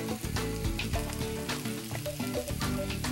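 A tomato and pesto sauce base simmers in a pan with a constant, even crackling sizzle. Tonal background music plays steadily underneath throughout.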